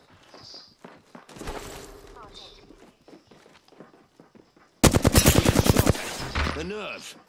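Rapid automatic gunfire bursts out in Apex Legends amid a firefight, loud and close, following quieter footsteps and scattered shots with a voice speaking under the action.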